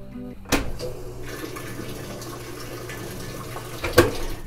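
A washing machine starting a cleaning cycle with vinegar water, a mechanical click and then water rushing steadily into the drum, close and continuous, with a second sharp clunk near the end.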